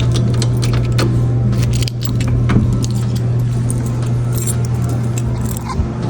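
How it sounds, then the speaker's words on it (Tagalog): A ring of store keys jangles near a parked car outside a Tim Hortons in Canada, with bright metallic clinks in short bursts over a steady engine hum. "Ito yung susi ng store."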